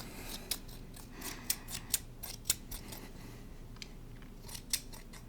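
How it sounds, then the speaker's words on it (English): Crisp scissors snips close to the microphone during a soft-spoken haircut roleplay, a handful of separate sharp blade closures at irregular intervals over a quiet background. "I just cut hair."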